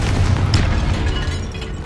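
Confringo spell explosion in Hogwarts Legacy: a loud close booming blast with crackling bursts, rumbling and fading over about two seconds.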